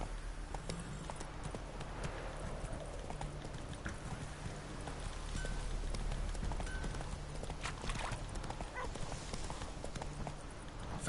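Horse Roach gallops in The Witcher 3, a steady, fast clip-clop of hooves that runs continuously under a dense bed of ambient game sound, with no talking.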